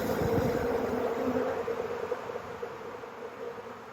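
A honeybee swarm of worker bees buzzes around a hive box, a steady droning hum of many insects close by with light outdoor background noise.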